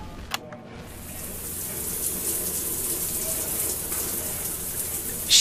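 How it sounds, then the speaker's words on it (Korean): A shower running in a recorded scene of an audio drama, a steady broad hiss of falling water that continues evenly throughout after a brief quiet start, with a faint click or two. "11분 동안 샤워를 하는 소리."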